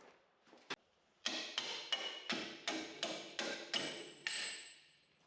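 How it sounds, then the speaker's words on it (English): Sharp metallic strikes of a hammer on a punch, driving a bolt out of a front lower control arm on a Toyota 4Runner or Lexus GX470: about eight blows in a steady rhythm after a single earlier tap, close and clear against a quiet background. "You may need to use a hammer and a punch to punch that bolt all the way through."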